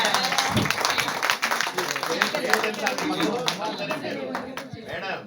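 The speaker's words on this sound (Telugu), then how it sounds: "claps claps claps claps" An audience at a stage event applauds continuously, a dense sustained clapping that stays loud throughout with a brief dip near the end.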